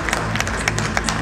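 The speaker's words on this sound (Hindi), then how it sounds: "प्लीज जोरदार तालियां सम्राट जी के" Audience clapping at a healthcare awards ceremony, a short burst of dense, steady applause with scattered sharper claps standing out near the front.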